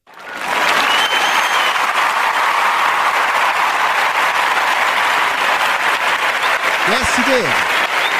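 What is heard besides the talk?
audience clapping for a block party host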